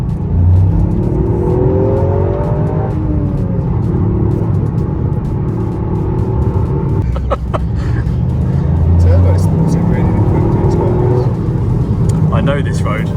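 Toyota Yaris GR three-cylinder engine droning steadily while driving on a country road, a loud in-cabin rasp with rising and falling tones and constant road rumble, under intermittent talk.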